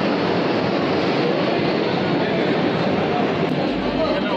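A Vande Bharat Express pulling away from Malda station, heard from inside as a loud, steady, even rumble of the moving train.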